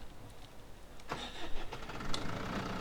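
In a farming video game, a tractor engine cranks and catches partway through, then settles into a low, moderately quiet idle with a few small revs.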